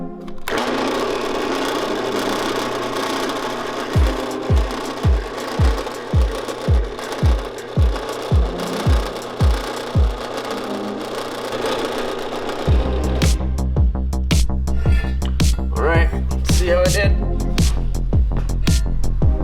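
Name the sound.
drilling bolt holes in a Land Cruiser frame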